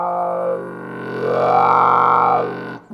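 A sustained trombone tone played with a wah-wah mute, a strong wah-like sweep, the timbre opening and closing as the note holds, then cutting off abruptly.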